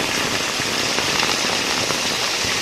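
Steady heavy rain of a thunderstorm day patters on surfaces in a dense, even hiss that holds without break from start to finish, loud and close, with no voices.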